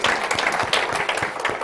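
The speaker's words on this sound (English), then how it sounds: "I'm getting an applause already." An audience at a hypnosis seminar in Kuala Lumpur claps steadily, a dense, loud wash of many hands throughout.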